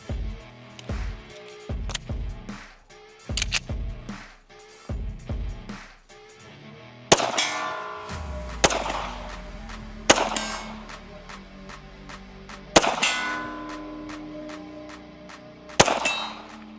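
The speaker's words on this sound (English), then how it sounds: "Let's just shoot some steel down there real quick." Pistol shots from a Kimber 2K11 ring off steel targets 100 yards downrange, about a dozen sharp reports with faint metallic pings following, spaced unevenly over outdoor quiet.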